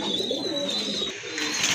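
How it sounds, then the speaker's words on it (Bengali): A pair of cream bar pigeons coos softly up close, with a low, rolling coo followed by a second throaty phrase, and no talking. "খুবই সুইট কিউট এক জোড়া কবুতর মাশাআল্লাহ"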